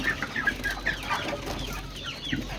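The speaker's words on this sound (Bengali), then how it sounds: "এই যে এখানে কিছু মোরগ আছে যেগুলো আমি বিক্রি করে দিব" Four-to-five-month-old roosters on a farm give soft, repeated clucks and short calls at moderate distance over a faint background hush.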